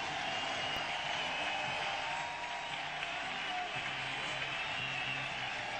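A small but enthusiastic late-night baseball crowd at a Cubs–Mets game at Shea gives steady, sustained applause for pitcher Jorge Sosa, a continuous wash of clapping heard from a distance.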